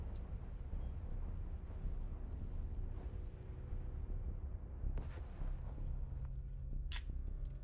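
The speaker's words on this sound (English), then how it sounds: "Nice explosion. We like this explosion." A spaceship explosion in the EVE Online space game: a continuous low, rumbling roar with scattered crackling bursts, holding steady at moderate loudness for several seconds with no speech over it.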